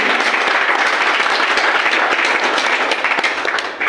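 An audience at a stage event applauds two people being honoured, giving loud, dense, sustained clapping that holds steady and begins to thin slightly near the end.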